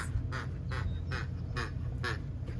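A squeaky duck dog toy quacks about six times in a steady rhythm, each squeak short and close, over a low background hum.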